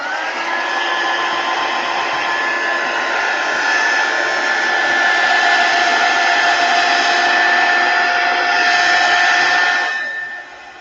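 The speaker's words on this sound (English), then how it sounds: "I'm just going to turn my heat tool on" A crafting heat tool blows hot air to dry a stamped floral project, a loud steady whirring roar with a constant tone that runs nearly eleven seconds before cutting off at the end.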